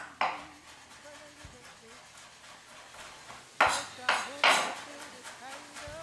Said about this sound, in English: And once you've smashed it all down, then you can chop it.